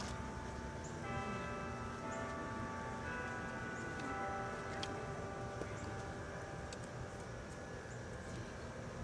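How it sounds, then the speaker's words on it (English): Church bells ring in Annapolis, Maryland, sustained tolling tones blending together at a moderate distance over a steady outdoor background hum. "Let's give a moment to the bells."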